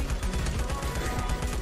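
Rapid gunfire in the Life After mobile game, fired continuously at a giant spider creature, a dense sustained burst of shots with no talk over it.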